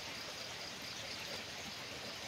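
Steady rain falls during a rainy-season flood, making a continuous, even hiss of drops with no breaks and no talking.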